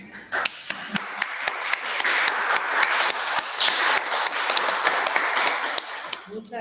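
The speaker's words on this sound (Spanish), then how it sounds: "No sé si mis espectadoras ahí están aplaudiendo también" An audience claps steadily at a talk for older people, many hands giving a dense, even patter with a few sharp louder claps standing out, lasting several seconds.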